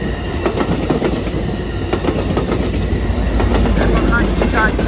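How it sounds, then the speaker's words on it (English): An Amtrak Capitol Corridor train led by cab car 8310 with an F59PJ locomotive at the rear rolls past, loud and close, with steady rumble, rhythmic wheel clatter and a brief wheel squeal. "And it sounds like F59PJ in the rear again."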